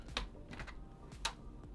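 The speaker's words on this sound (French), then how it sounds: "voilà, le clavier il est sorti." A laptop keyboard is pried loose during disassembly, giving a few sharp, quiet plastic clicks and snaps spaced irregularly over a faint background, with no talking.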